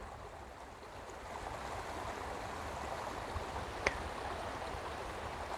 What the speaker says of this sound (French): Un peu plus loin, j'entends le bruit plus puissant du mini barrage.